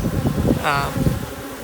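Honeybees buzzing at an established hive that already carries a super, a close, dense hum with rustling movement throughout, no talking.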